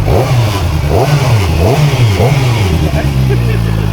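An SRK 450RR motorcycle engine revs up and down in a steady rhythm of rising and falling blips, close and loud, then settles to idle.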